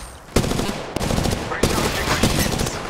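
Bursts of automatic gunfire in the battle royale game Apex Legends on Kings Canyon, loud, close rapid volleys in three runs separated by short gaps.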